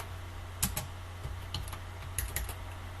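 A handful of sparse keystrokes tapped on a computer keyboard while entering a shutdown command during Raspberry Pi 4 setup, with quiet, scattered clicks over a low steady hum.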